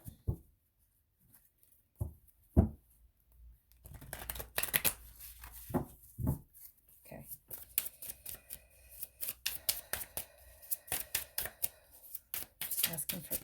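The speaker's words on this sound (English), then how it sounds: "I forgot to shuffle this deck, so I just want to do a little bit of a shuffle." A tarot card deck is shuffled in a quiet room, starting with a few isolated taps and then building into rapid, crisp riffling bursts close by, with a brief spoken word early on.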